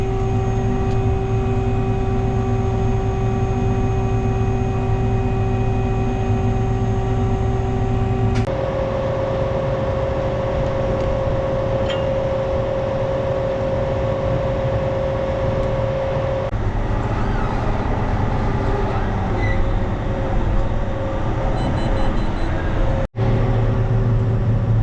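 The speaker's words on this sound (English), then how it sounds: "And I'm gonna get this tractor on the roller" A tractor pulling a roller across a field drones steadily and close, with a continuous engine hum that shifts in pitch partway through.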